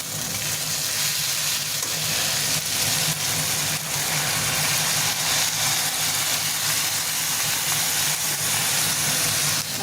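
Washed rice frying in a pan for pulao, a steady loud sizzle with a constant hiss and no breaks, heard close up with no voices.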